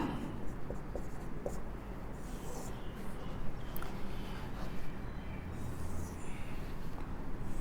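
Chalk or marker writing on a board in a classroom lesson on crystal groups, soft continuous scratchy strokes close by under a noisy room background.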